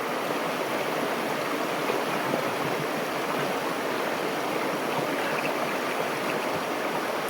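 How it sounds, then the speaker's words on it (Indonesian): Natural spring water in a stream near the Temula River in Nyuatan, Kutai Barat, flowing in a steady, close, full rush that never breaks, with no voices over it. "ini air asli, air alam yang keluar dari mata air"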